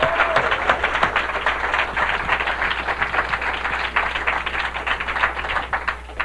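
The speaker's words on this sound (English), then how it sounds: "big round of applause, Rob Jacobson is here tonight. Let's hear it for Rob" Comedy club audience in San Francisco applauding a comic being brought to the stage, a dense steady patter of many hands clapping throughout, close and fairly loud with a little crowd murmur beneath.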